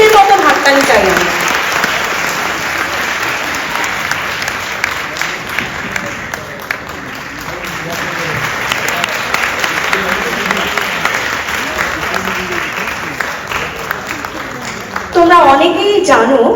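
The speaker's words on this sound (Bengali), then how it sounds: "কিন্তু তার আগে কি একটা হাততালি দেওয়া যায়?" Audience at a Bengali song festival abroad breaks into sustained applause, fairly close and lively, with a voice speaking over the clapping near the end.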